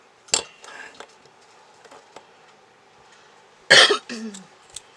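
Two sharp coughs, one early and a harsher one near the end, over faint clinking of dishes and utensils in a quiet room.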